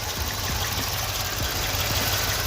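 A Mercedes C63 engine idles with the coils on cylinders 1 and 2 unplugged, giving a steady, close, rough mechanical hum with faint periodic knocks and no voices.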